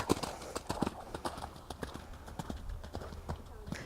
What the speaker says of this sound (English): The horse has to be cantering forward to find the distance on number 1.